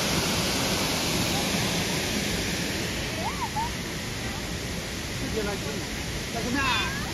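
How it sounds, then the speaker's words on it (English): A strong waterfall at the Falls of Falloch sends spring water rushing through rocks in a steady, loud, hissing roar. Voices talk faintly over it and birds chirp briefly on top of the continuous noise. "And this is very strong, and like spring water coming through the rocks."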